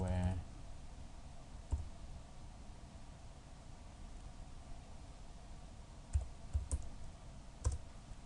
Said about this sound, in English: I'm actually typing rather strangely.